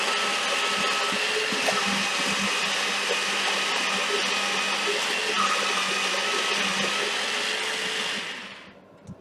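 An electric blender whirs loudly and steadily for about eight seconds, mixing vegan ingredients with water, then the motor cuts off and winds down.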